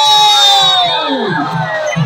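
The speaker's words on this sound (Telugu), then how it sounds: "సో గట్టిగా చప్పట్లతో జేసీ shopping mall fashion for all ఇప్పుడే శ్రీలీల గారి చేతుల మీదుగా ఓపెన్ అయింది." Crowd cheering and shouting at the opening of the JC shopping mall in Rajahmundry, inaugurated by actress Sreeleela; a dense, loud roar of voices with whoops and children's shouts, sustained throughout, clapping not clearly distinct.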